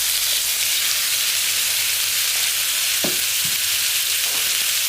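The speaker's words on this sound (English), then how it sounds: "because I like my onions sauteed, I just put my onions" Onions sauté in a pan on the stovetop beside homemade hamburger, giving a loud, steady, close sizzle and crackle throughout, with a couple of faint clinks midway and no talking.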